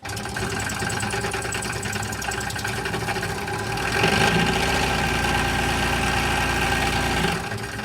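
A scroll saw runs at maximum speed, a steady close mechanical hum and rapid vibration that rises in intensity midway, then eases near the end.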